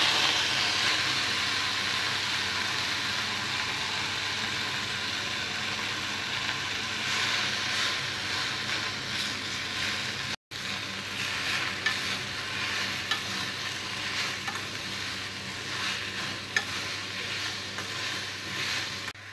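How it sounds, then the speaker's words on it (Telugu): Gongura leaves frying in the same oil used for chillies: a loud, steady hiss of sizzling oil with faint stirring movements, unbroken apart from one brief cut midway. "మిరపకాయలు ఫ్రై చేసుకున్న ఇదే ఆయిల్లో గోంగూరను కూడా ఫ్రై చేసుకోవాలి."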